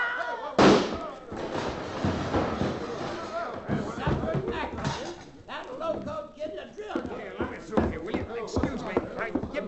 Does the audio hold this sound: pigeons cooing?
no